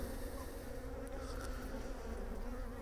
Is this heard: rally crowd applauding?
no